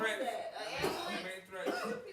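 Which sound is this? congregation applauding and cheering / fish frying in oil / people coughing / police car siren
people coughing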